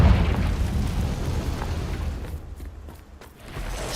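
A fiery Confringo spell blast in Hogwarts Legacy starts as a loud, heavy booming burst and rumbles on as a spreading roar, then thins to a quieter crackling tail.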